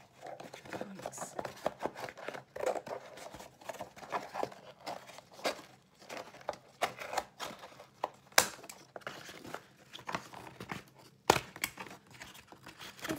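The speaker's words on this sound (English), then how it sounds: "we're gonna make another cut going halfway across our egg box" Scissors cut through a cardboard egg box in a quiet room, making a run of irregular crunchy snips and tearing crackles with a few sharper clicks.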